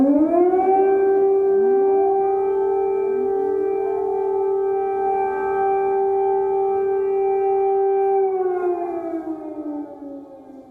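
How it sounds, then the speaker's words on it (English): A wailing air raid siren in the streets of Kyiv during wartime holds a long steady tone, rising at the start and falling away near the end, loud and close with no voices. "Sounds of gunfire, shelling, air raid sirens and airstrikes echoed in the streets of Kyiv."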